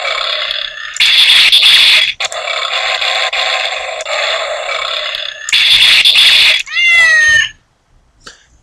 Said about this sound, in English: You hit it about 20 times or so, and it meows at you.